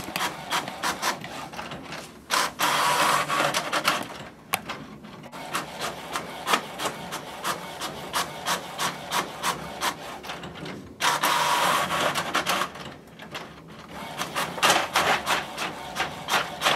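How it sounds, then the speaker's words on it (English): A Canon Maxify GX 7021 inkjet printer feeds and prints pages, making repeated rhythmic mechanical clicks and sliding print-head passes, with louder paper-feed whirs near the start and middle, close and steady with no talking. "allow the sound on what is being printed, so you can hear how it sounds when it's printing"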